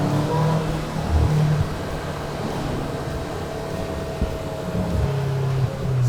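Polaris Slingshot, a three-wheeled car-motorcycle hybrid with a General Motors engine, revs as it pulls away on a drive around San Francisco: a steady, fairly loud engine drone with rising and falling rev swells and no talk.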